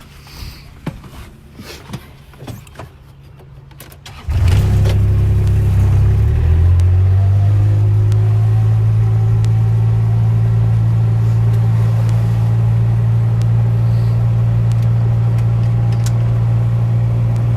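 A Kubota farm utility vehicle starts after a few quiet knocks and rustles, then its engine settles into a loud, steady, low idle that drones on unchanged, close up.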